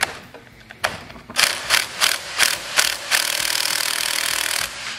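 Socket wrench working a 14mm magnet bolt on a transmission cover: a series of quick ratcheting strokes in rhythmic bursts, then a steady sustained ratcheting run, close and loud.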